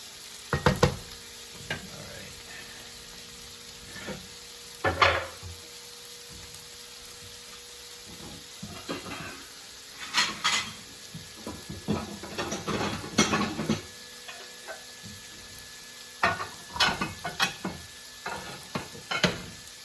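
Food toasting in a pan with a soft, continuous sizzle, broken repeatedly by sharp scrapes and clinks of a utensil stirring against the pan, loud and close.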